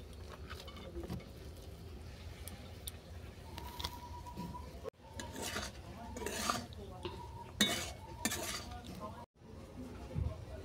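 Rice being stirred into a spiced masala in a pan for tawa pulao with garam masala, cumin powder and pav bhaji masala, making soft close scraping and light clinks of a spoon against the pan, with a brief quiet break midway.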